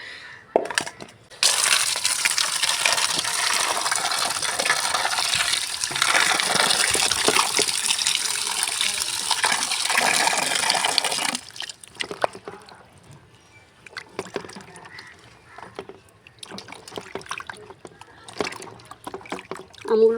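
Whole mangoes are washed in water, giving a loud, continuous rush of splashing and swishing for about ten seconds, then quieter scattered drips, knocks and handling sounds close by.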